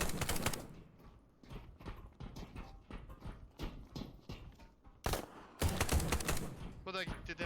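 Gunfire in the shooter game Marauders: sharp bursts of shots and clattering action come in several loud clusters, mixed with voices talking and game noise.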